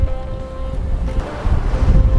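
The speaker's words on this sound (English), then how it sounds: "It's quite windy on this side." Strong wind blows outdoors, buffeting the microphone with a loud, continuous low roar that swells toward the end, with no talking.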